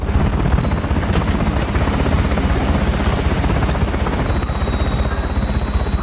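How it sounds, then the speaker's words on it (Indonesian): A landing helicopter roars close by with a loud, continuous rotor chop and whine that holds steady throughout. "Tampak, 1 unit helikopter berhasil mendarat dengan sempurna."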